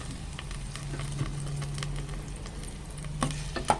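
Chicken breast frying in a pan with onions that are close to blackening, giving a continuous sizzle with scattered pops and crackles, close and moderately loud, with a low hum underneath and a few sharper clicks toward the end.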